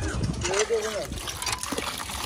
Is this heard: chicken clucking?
no